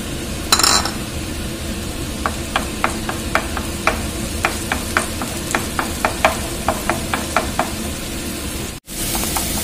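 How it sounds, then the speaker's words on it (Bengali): Chopped onion hitting hot oil for a Mughlai chicken handi, a steady close sizzle under a run of light regular clinks and scrapes of a stirring spoon against the pot, no talk. "তেলের মধ্যে পেঁয়াজ কুচি দিচ্ছি, মোগলাই চিকেন হান্ডি"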